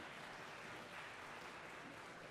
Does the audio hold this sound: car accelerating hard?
no